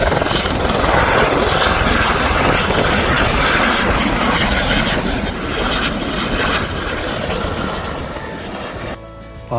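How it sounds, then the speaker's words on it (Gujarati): A helicopter passes overhead near the Twelve Apostles on Australia's Great Ocean Road, a loud, steady, continuous rotor and engine roar that eases slightly near the end. "ઓહો, બહુ અવાજ કર્યો હેલિકોપ્ટરે."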